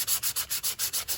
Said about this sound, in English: then I'm gonna do some sanding on the other side too.